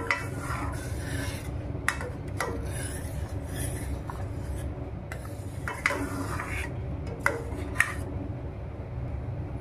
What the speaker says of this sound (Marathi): आता आपण याच्यात वेलची पावडर घालून घेऊ। चांगलं मिक्स करू।